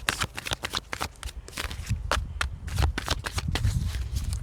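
Tarot cards shuffled by hand during a reading: a quick run of crisp, papery riffles and slaps, close and fairly loud, repeating steadily for several seconds with no talking.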